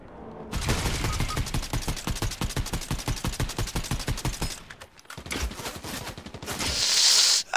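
Rapid automatic gunfire in the video game Fortnite rattles out in a fast, even stream for about four seconds, then comes a brief pause and a few more scattered shots, loud and close.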